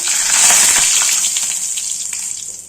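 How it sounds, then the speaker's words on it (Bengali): Bay leaves dropped into hot oil in a pan, a loud steady hiss of sizzling that swells at first and then settles into a continuous bright fizz, close up with no talking. "তেজপাতা দিলাম তেলের উপর"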